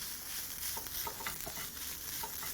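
A beef dumpling mixture with tomato paste fries in a pan, giving a soft continuous sizzle broken by light scraping and stirring strokes, close and fairly quiet.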